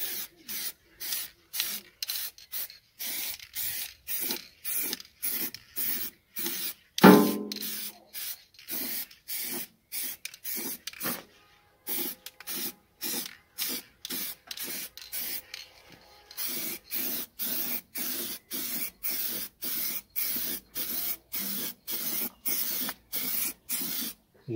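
Aerosol spray paint hissing onto a car wheel in dozens of short, regular bursts of even loudness, one after another with brief gaps, close by and without talk, plus one sharper knock partway through.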